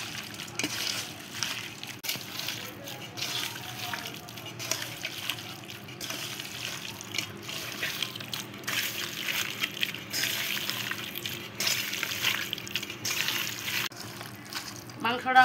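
Tap water running while hands are washed after mixing beef by hand, a fairly faint, steady gushing hiss with small splashes lasting throughout.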